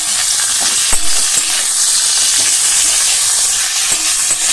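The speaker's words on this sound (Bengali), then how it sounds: "তো চলো এখন এটা ভালো করে ভাজা করে নিই।" Chopped onion with green chilli frying in a pan gives a steady, close hiss of sizzling oil with a few faint clicks of stirring, and no voices.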